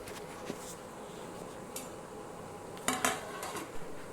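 A metal lid set onto a pot of jalebi fish curry on the stove, with a few close clinks and a sharper clatter near the end over a steady low background hum.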